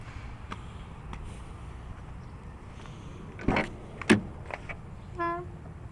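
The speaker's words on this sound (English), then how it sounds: "Power windows and locks." Power windows on a 1999 Mercury Cougar whir briefly and quietly, with a couple of short motor bursts and a soft clunk under low cabin hum.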